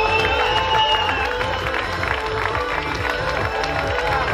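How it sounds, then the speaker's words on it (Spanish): A crowd applauds and cheers at the Dragon Battle Race award ceremony in Santiago del Teide, a dense, continuous wash of clapping and voices that holds steady and loud throughout. "¡Un aplauso, chicos!"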